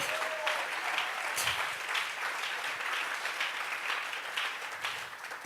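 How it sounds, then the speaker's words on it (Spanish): Church congregation clapping together as an offering of praise, a steady, moderately loud round of applause that carries on evenly for several seconds without speech. "Le vamos a regalar ofrenda de palmas al Dios de la gloria."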